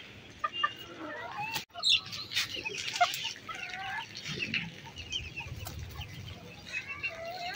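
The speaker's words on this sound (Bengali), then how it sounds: "কিরকম পাখা ঝাপটাইতেছে।" A small farm chicken clucks close by and scattered through the clip, with one sharp burst of flapping wings partway in. No voices are heard.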